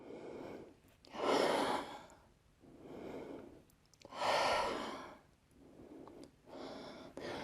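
Slow, deep breaths during a yoga stretch, long airy inhales and exhales alternating in a steady rhythm, close and fairly quiet with no talking.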